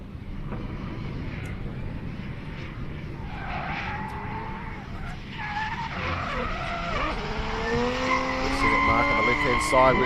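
A drift car skidding through a competition run at Manfeild during DriftWars, engine roar and rising tyre squeal building in the distance, with a commentator talking over it.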